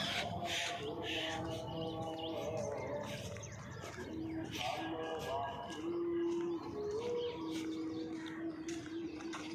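Peacocks calling outdoors on a morning walk, with repeated sharp calls standing out over a busy chorus of other birds and cooing, set against steady ambient background noise.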